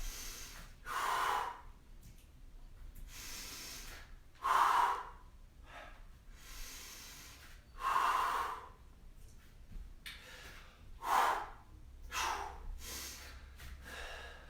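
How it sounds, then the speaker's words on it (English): Deep breaths in and slow exhales during a bodyweight workout, about eight close, airy breaths in an even, slow rhythm, with the louder exhales recurring every few seconds and no talking. "Breathe in. Exhale."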